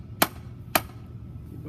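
Two sharp hammer strikes land on a wooden batter board stake, spaced about half a second apart, crisp and close over outdoor background noise.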